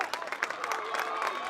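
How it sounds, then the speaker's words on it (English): Crowd cheers and applauds at a boys high school soccer game against Dedham after an injured player gets back on his feet; steady, moderately loud clapping and voices run through the whole moment. "cheer from the crowd"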